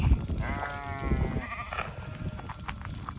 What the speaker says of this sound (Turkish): Koyunlar, kuzular gittikçe büyüyorlar.